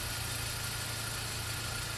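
A 2002 Mini Cooper's BMW-developed 1.6-liter four-cylinder engine idles smoothly and steadily, a low, even hum heard close by with no talking.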